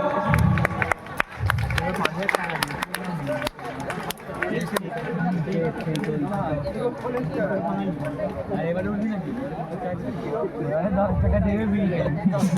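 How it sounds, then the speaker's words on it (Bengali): A school audience claps at an annual prize distribution, with scattered sharp claps in the first few seconds, then loud crowd chatter and voices that continue throughout. "সকলে একটু করতালি দাও"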